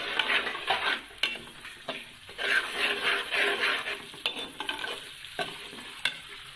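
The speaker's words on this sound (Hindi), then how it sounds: "सूजी को लो फ्लेम पे हम फ्राई करेंगे लाइट ब्राउन।" Semolina frying on a low flame for suji halwa, stirred with a spoon: a close, uneven sizzle swelling and fading as the spoon scrapes and taps against the pan in irregular strokes, no speech.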